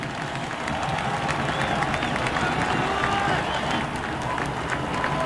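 A capacity football crowd at the Cotton Bowl for Texas Longhorns versus Oklahoma Sooners roars in a dense, sustained wall of cheering and clapping, distant and even, with a commentator's voice faintly over it.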